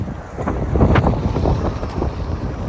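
Wind gusting outdoors along a residential street in Toronto's Forest Hill and Deer Park area, a steady rumbling buffet on the microphone with surging gusts, no talking.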